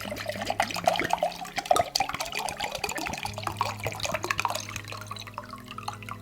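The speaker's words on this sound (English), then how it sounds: "strained and used a funnel to fill a bottle a bit like this, just pour out 450 milliliters" Wormwood infusion poured through a funnel into a roughly 450-millilitre bottle, giving a close, trickling and dripping liquid stream with a low steady hum beneath and no voices.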